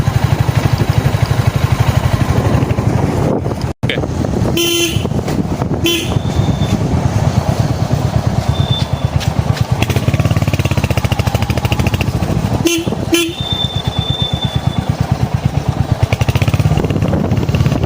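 A Royal Enfield Hunter 350 riding along Delhi Road, a loud steady engine drone with heavy wind rumble, broken by a few short horn toots from passing traffic.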